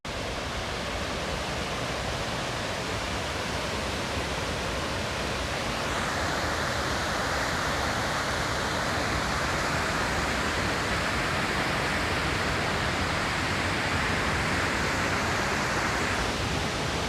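Panther Creek Falls on the Pacific Crest Trail roars as a steady, loud broadband rush of falling water, close and unbroken for the whole span, swelling slightly brighter partway through as the view opens.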